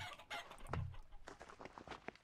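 Chickens cluck in the Vintage Story survival game on a homestead, a few short clucks and one louder squawk, fairly faint and without talk.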